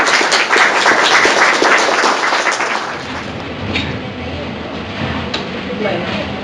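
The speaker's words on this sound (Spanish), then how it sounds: "Un aplauso para la profesora" Applause for a lecturer at an educational seminar, a dense, loud wash of clapping that thins and fades after a few seconds into scattered claps and murmuring.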